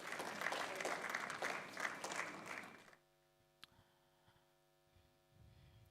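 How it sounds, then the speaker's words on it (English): Audience applause at a live-streamed public event, fairly loud for about three seconds, then cutting off abruptly to a low electrical hum with a faint knock. "Please, a round of applause for the Institute as well."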